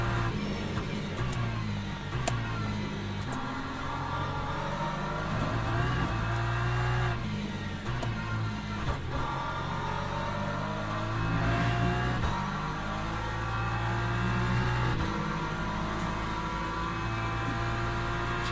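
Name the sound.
hypercar engine revving in the video game Le Mans Ultimate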